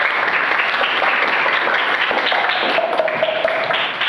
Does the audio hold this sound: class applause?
yes